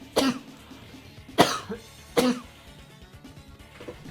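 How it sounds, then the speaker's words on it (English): Three sharp coughs or throat-clearing bursts at roughly even intervals, close and fairly loud, from a commentator during an Advance Wars by Web match, with quiet background between them. "I'm going to cough again"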